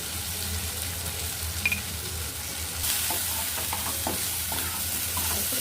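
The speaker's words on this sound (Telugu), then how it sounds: "ఇప్పుడు కారం వేసుకొని కలుపుతుంది" Chili powder is stirred into a brinjal curry in a pan, giving a steady sizzle with soft scraping spoon strokes that grow busier midway, close and moderately loud.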